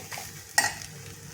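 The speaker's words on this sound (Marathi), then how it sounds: "आता आपण याच्यात सुके मसाले घालू" Dry ground spices including turmeric, chili powder, garam masala and asafoetida dropped into a kadhai of frying onion-coconut masala, giving one brief scraping stir and soft sizzle near the mic, with no talking.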